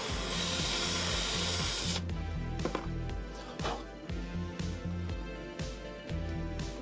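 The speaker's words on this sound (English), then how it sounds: "I wonder if I could just bore it out a little bit or ream it a bit" A power drill bores out a tight hole for a part in an animatronic wings build, making loud, close whining runs broken by short pauses and shifts in pitch as the bit bites.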